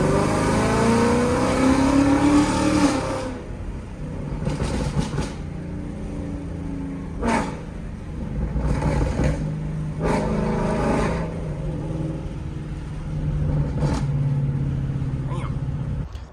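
Ford Mustang GT with a Ford Performance Borla exhaust, a loud engine revving and pulling hard at first, then a quieter idle punctuated by brief bursts of acceleration, heard from up close.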